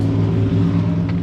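A pickup truck fitted with a louder aftermarket exhaust passes on a rural road through farmland, its engine drone rumbling steadily and close throughout without talk.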